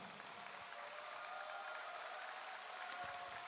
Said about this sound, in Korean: 전라북도 도지사 후보 이원택, 여러분 큰 박수 한번 보내주시기 바랍니다